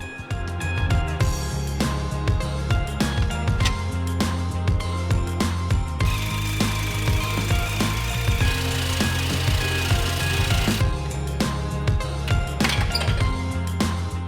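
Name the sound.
folding sheet metal into an airbox bracket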